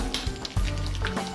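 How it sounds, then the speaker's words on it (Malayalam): Mustard seeds and dried red chillies frying in hot oil as a tempering, a brief close bout of sputtering sizzle with sharp pops and crackles over a steady hiss. "ഇനി കടുക് വറുത്തെടുക്കാം"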